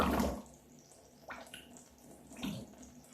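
A fermentation airlock on a wash releasing a few bubbling gurgles, soft watery blips spaced about a second apart in a quiet room.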